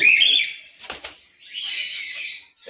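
Cockatiels flapping their wings in a bird loft: short bursts of fluttering close by, with a brief chirp at the start and a few soft knocks between flaps.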